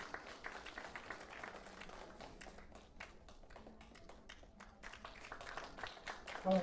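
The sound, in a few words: audience applause after a lecture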